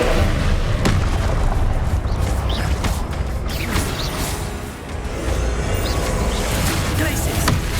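A Confringo fire spell explodes during combat in the video game Hogwarts Legacy, a heavy boom with crackling debris. It sits among a dense, continuous mix of other spell blasts and battle effects.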